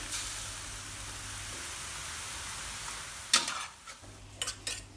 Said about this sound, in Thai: ผัดให้เข้ากันสักเล็กน้อยนะคะ